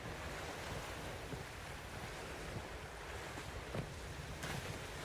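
Boat sailing on waves in the video game The Witcher 3, a steady wash of surf and wind noise with occasional splashes, continuous and fairly quiet with no talk.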